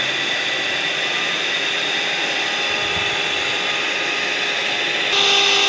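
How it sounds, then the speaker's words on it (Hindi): An electric mixer beats tea cake batter as sugar is added, a constant loud motor whine with broadband whirring that steps up in pitch and volume near the end as the speed increases. "इस तरह से हमने बीट करते जाना है इसको अच्छे तरीके से, आहिस्ता आहिस्ता तेज़ करते जाएंगे"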